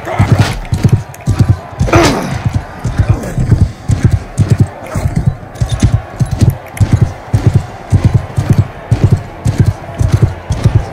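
Horse hooves gallop in Mount & Blade II: Bannerlord, a loud, close, steady rhythmic clip-clop of repeated thudding beats throughout, with a brief higher whinny-like sound early on.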